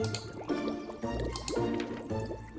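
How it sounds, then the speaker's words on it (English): Water bubbles and sloshes in a pot while being brought to a boil for brewing in a video game, with steady liquid gurgling and dripping sounds up close. "Okay, the water's boiling."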